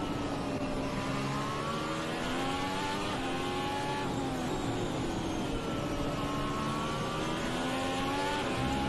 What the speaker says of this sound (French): Il arrive justement sur Kubica qui le dépasse.